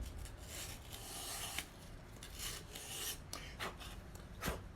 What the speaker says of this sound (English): Here is how you sand to prepare to glue.